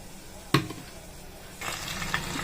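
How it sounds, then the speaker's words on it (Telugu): Oil in a hot pan on the stove gives a short sharp crackle, then a soft steady sizzle that rises toward the end, close and fairly quiet. "స్టవ్ మీద ప్యాన్ పెట్టుకొని కొద్దిగా ఆయిల్ వేసి ప్యాన్ వేడైన తర్వాత 2 to 3 టేబుల్ స్పూన్స్ ఆయిల్ వేసి"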